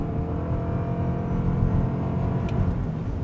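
Engine of a Toyota RAV4 Woodland plug-in hybrid SUV pulling hard from a brake-torqued launch, a loud, steady low rumble that holds at constant strength for several seconds with no voices.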